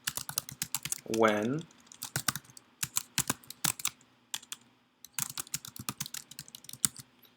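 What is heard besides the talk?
typing on a computer keyboard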